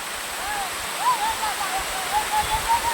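Steady broadband rush of Bisibis Falls, a waterfall beside the sea in Barangay Cagsiay II, Mauban, Quezon, heard up close and continuous, with faint bird chirps over it and people talking nearby.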